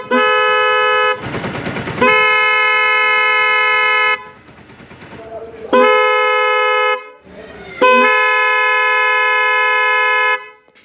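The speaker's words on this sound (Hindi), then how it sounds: "तो ये था साउंड बोस सिम्फनी हॉर्न का, जो कि काफ़ी पावरफुल था।" A Bose Symphony dual-tone car horn sounds four loud, sustained blasts, each a couple of seconds long, separated by short gaps of noisy background.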